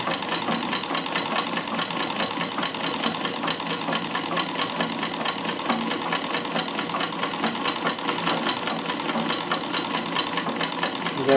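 A Davis vertical feed (needle feed) sewing machine stitches fabric with a fast, steady mechanical clatter, an even run of rapid needle strokes continuing throughout at moderate level, with no talking.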